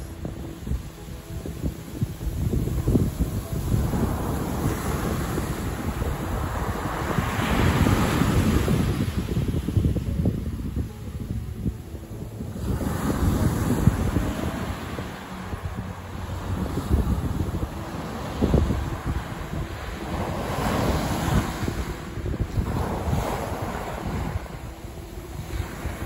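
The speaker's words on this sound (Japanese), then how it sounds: "若干風と 波もあるようです。" Wind and ocean waves on a beach the day after a heavy storm, with blustery gusts buffeting the microphone over a constant roar of surf that swells and eases across the whole stretch, no voices.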